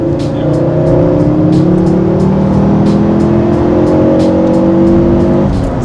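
Ford Focus RS engine revving hard under acceleration while driving, a loud, continuous rising and falling engine drone with steady harmonics held throughout, no talking.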